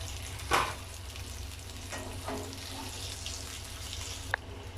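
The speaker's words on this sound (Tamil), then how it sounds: "பாருங்கள், மீன் வந்து நல்லா ஃப்ரை ஆகிடுச்சு" Kilichai fish fry in hot oil in a pan, giving a continuous close sizzle with a few louder spatters and light handling clatter.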